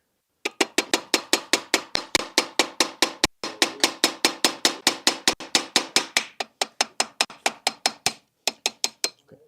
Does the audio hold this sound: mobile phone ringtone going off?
no